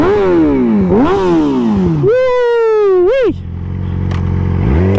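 Yamaha R6 600cc sport bike engine revved hard in close, loud blips that climb to a high-pitched scream and drop back, ending in a rough, burbling idle.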